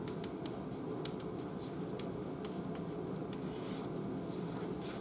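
Marker or chalk scratching on a board during a food chemistry lecture, steady rubbing strokes with brief taps, close and fairly soft over room noise, no talk.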